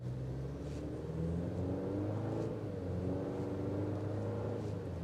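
A 2026 GMC Canyon Denali pickup truck pulls away from a stop, its engine note climbing in a muffled, steady rumble heard from inside the cab, fairly quiet and without talk.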